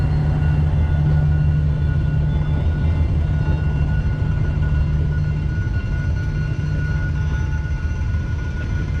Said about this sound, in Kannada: ನೀವು ನೋಡ್ತಿರ್ಬೋದು ನೋಡಿ ಎಷ್ಟು ಚಿಕ್ಕ ಇದೆ ಟ್ರೈನ್ ಅಂತ. ನ್ಯಾರೋ ಗೇಜ್ ಇದು.